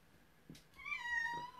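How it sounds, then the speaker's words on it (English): A house cat meows indoors, a drawn-out, fairly close cry following a couple of soft bumps, with no talking over it. "one of the cats is in"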